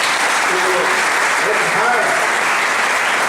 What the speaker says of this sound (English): A big hand of applause to Mr. Yun.